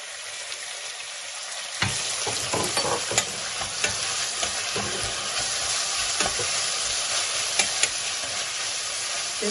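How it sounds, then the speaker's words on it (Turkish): Peppers and onions drop into hot oil for bulgur pilaf, bursting into a loud, steady sizzle that runs on with occasional spoon scrapes and stirring knocks, close and without talk. "Biberlerimi ve soğanımı ilave edip biraz kavuracağım."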